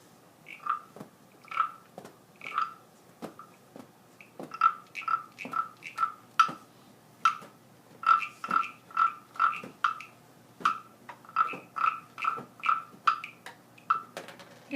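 A small tree frog croaks in steady bright pulses, near and clear, repeating in quick runs and pauses over a quiet background with no talking.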